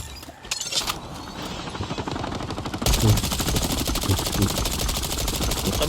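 Rapid bursts of automatic gunfire from the video game Squad, played on an iPad, crackle loudly and continuously, with mechanical clatter and a faint voice underneath.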